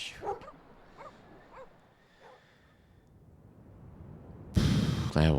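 Sled dogs in the snowbound video game The Pale Beyond give faint yips and whimpers over a soft ambient bed, a few scattered calls, ending in a sudden louder noisy burst.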